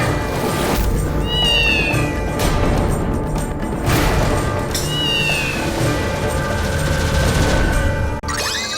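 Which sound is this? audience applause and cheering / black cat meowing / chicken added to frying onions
black cat meowing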